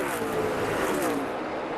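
NASCAR Cup Series race cars roar around Charlotte on the final lap, a loud, dense, continuous engine howl with no break, heard up close.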